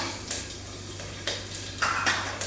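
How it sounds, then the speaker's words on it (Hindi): Green chillies, a bay leaf and cumin hit a hot pan for rajma, giving a few brief sizzling bursts and light clinks of a spoon against metal over a low steady hum. "अब मैं इसमें डाल रही हूँ दो हरी मिर्चें एक तेज पत्ता जीरा एक बड़ा चम्मच"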